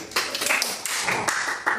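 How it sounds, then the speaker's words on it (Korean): A church congregation claps together during a worship service, a steady wash of many hands with a few sharper bursts, fairly close and continuous for a couple of seconds, with some talk mixed in. "윤님 박수 한번 보내드려요."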